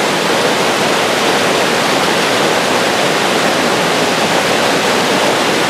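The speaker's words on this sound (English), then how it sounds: "It's a Sasquatch River, I swear. It's their waterfall." Snowmelt water pours over a waterfall into a river, making a steady, loud, broadband roar of rushing water that stays constant throughout, with no voices.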